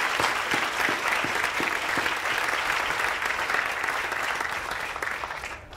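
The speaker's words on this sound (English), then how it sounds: "give Olivia and Ryan another round of applause" A crowd at a 2021 school graduation ceremony gives sustained applause for two student speakers, dense clapping at even loudness that fades slightly toward the end.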